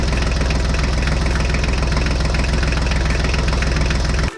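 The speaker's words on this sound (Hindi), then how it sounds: "चलो अपना ट्रैक्टर स्टार्ट करो, हमें आगे चलना है।" A tractor engine chugs steadily at idle in a cartoon, loud and close with a constant rhythmic knock, then cuts off abruptly at the end.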